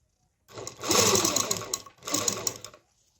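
A sewing machine runs in two close bursts, stitching elastic into fabric while the elastic is drawn back during sewing; the first run is longer, with a brief pause before the second.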